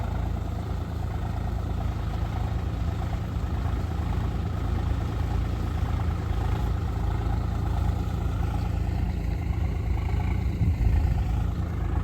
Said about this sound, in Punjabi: ਟਰੈਕਟਰ ਸਲਿੱਪ ਮਾਰੀ ਜਾਂਦਾ 4 ਵੀਲ ਚ ਆਇਆ ਤੁਰੀ ਜਾਂਦਾ ਏ